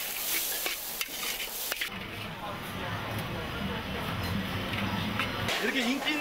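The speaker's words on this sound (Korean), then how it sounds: "고기를 튀기고 달걀을 풀고 국수, 숙주, 설탕, 땅콩 기름을 넣어 프라이팬에 볶아낸 태국의 대표 국수가 바로 팟타이다" Pad thai noodles with fried meat, egg, bean sprouts, sugar and peanut oil being stir-fried in a frying pan at a restaurant in Chiang Mai, Thailand: a steady, close sizzle with scraping stirs, preceded by a few utensil clinks.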